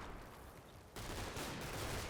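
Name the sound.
German artillery shells exploding nearby, from video game Combat Mission: Battle for Normandy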